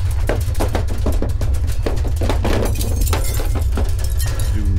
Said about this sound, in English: Do not be surprised by the noise from broken glass